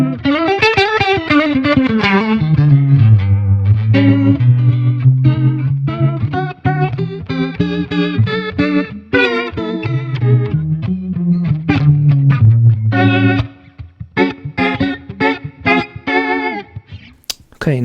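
An electric guitar plays a melodic line through the rotary effect of a Zoom MultiStomp MS-70CDR pedal, swirling and organ-like, notes wobbling and pulsing, ending in choppy staccato bursts.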